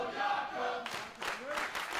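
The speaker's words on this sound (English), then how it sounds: "Decent crowd." A crowd at an independent wrestling show roars and cheers, a dense wash of voices that swells in loud bursts partway through and stays high to the end.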